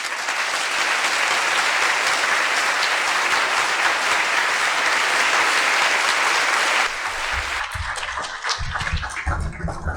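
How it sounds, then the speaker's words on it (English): An audience at a talk on Atlantis and spiritual insight gives sustained, loud, even applause that holds steady for about seven seconds before cutting down to scattered claps and room noise. "So another round of applause."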